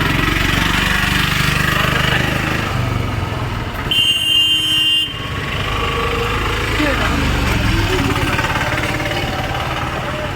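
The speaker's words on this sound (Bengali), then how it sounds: "এই যে বাইক।" A motorcycle engine runs with a steady, loud low rumble close by on a road, accompanied by traffic noise and people talking over it.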